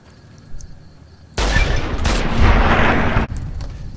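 A loud burst of gunfire in Fallout: New Vegas, a sustained dense stretch of shots aimed at lakelurks on the shore of Lake Mead, starting abruptly and cutting off after about two seconds.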